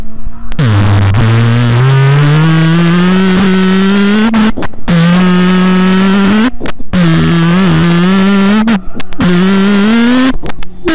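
A voice imitates a car engine with a loud, steady, buzzing drone that swells and rises in pitch, broken by a few short pauses. It carries on, close and unbroken, for several seconds.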